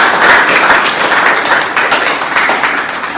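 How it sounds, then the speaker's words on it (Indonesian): Steady, fairly loud applause from students in a classroom, many hands clapping together in a close, continuous patter for a few seconds. "Nah, bagus, tepuk tangan untuk semuanya."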